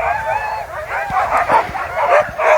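Sled dogs at the start of a race in Chasseradès bark and yip eagerly, with a rapid overlapping chorus of high excited calls and whines, loud and close, mixed with outdoor crowd noise.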